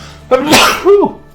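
A single sharp sneeze bursts out close to the mic during a live game stream, a short breathy intake followed by an explosive burst and a brief voiced tail.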